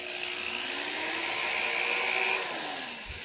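An 18-inch carbide-tip ship auger bit spins in a drill, giving a steady, fairly loud motor whine with a high tone that rises and holds, heard alone without talk.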